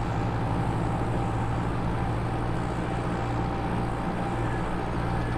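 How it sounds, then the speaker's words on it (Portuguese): Valtra tractor engine running hard on a farm, a dense, constant low rumble with a throbbing drone that holds steady throughout, heard close and loud with no voices. "E tiozinho, paciência, eu já tô acelerando o Valtra aqui."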